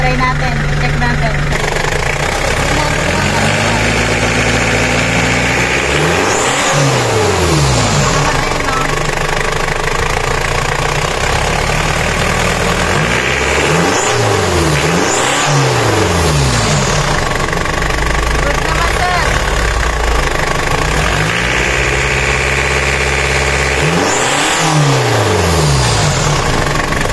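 A Pajero Gen 2 with a 4M40 diesel engine is revved hard and repeatedly, a loud, close, rough rumble rising and falling in several surges over steady engine noise.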